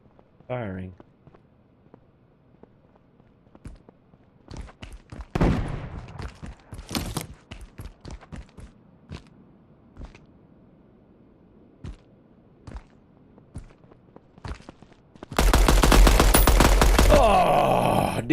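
Gunfire in an extraction first-person shooter game: a run of sharp, separate shots at irregular intervals, some close and loud and others further off, ending in a sustained loud burst of noise.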